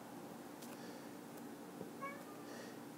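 A house cat gives a few faint, short meows in a quiet room, soft and somewhat distant against low background hum.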